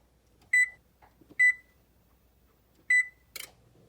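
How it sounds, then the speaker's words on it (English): A microwave oven melting butter gives three short, clear electronic beeps spaced over a few seconds in a quiet room, followed by a brief soft clatter. "we're going to melt it in the microwave for about 15 seconds"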